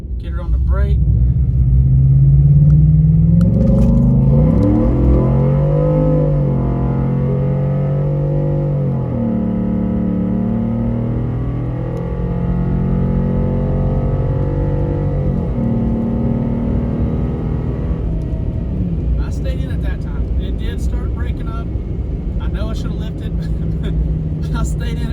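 A shop truck engine with nitrous roars and revs hard during a pass, stumbling and falling flat near 6,000 RPM, loud and close throughout, with a person talking over it.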